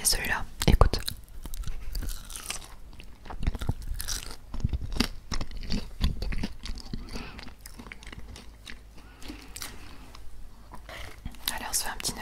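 Crispy McDonald's chicken nuggets crunch and get chewed close to the microphone in an ASMR eating session, with sharp bites and wet mastication alternating with soft whispering.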